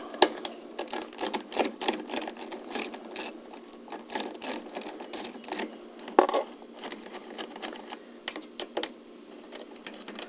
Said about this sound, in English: The first step here is to remove the rear gas tank bolts.